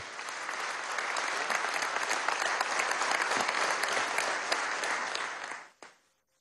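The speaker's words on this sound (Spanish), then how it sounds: "Gracias, aplaude." Sustained applause from an audience at a political address in Venezuela, dense and even for several seconds before it fades out abruptly near the end.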